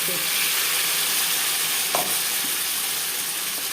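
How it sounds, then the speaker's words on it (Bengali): Potatoes fry in oil in a pan, giving a loud, steady sizzle with a brief stirring clatter partway through. "চার পাঁচ মিনিট আলু ভেজে নেওয়ার পর দিয়ে দেবো মশলা"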